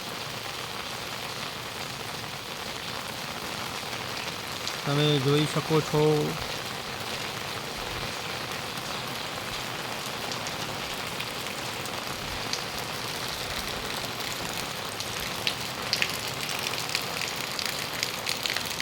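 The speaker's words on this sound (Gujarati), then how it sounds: "અને વરસાદની સુંદર એવી રમઝટ પકડેલી છે" Heavy rain falls steadily at a village temple, a dense continuous hiss of drops on surfaces throughout, with someone talking briefly under the downpour.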